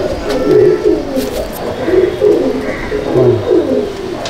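Kalpura kaldum pigeons in a home loft at Kestopur coo repeatedly up close, soft throaty rolling calls following one another in a loose rhythm.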